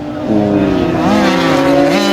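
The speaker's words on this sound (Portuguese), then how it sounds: "O Alex Machado, essa moto vermelha número 8, que agora também foi ultrapassada pelo Serge Guillermin" A red racing motorcycle, number 8, is passed on a race track in Goiânia. The engine notes are loud and close, and their pitch rises and falls sharply as the bikes overtake, over a steady roar.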